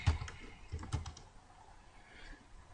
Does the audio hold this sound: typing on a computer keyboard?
yes